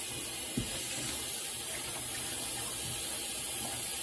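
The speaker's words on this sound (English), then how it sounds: "So I'm just rinsing off the ice." Tap water runs steadily over cooked crab legs as ice is rinsed off in a sink, a continuous close hiss and splash with faint clunks of handling.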